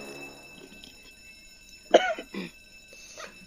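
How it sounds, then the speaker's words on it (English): A single sharp cough sounds nearby, followed by a couple of softer throaty bursts against a quiet background with a faint tone. "I don't know why I just coughed"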